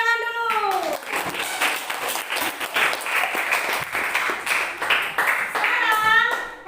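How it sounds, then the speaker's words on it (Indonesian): Children in a classroom clap their hands together in a loud, sustained burst of dense applause, with young voices calling out at the start and again near the end. "Tepuk tangan dulu."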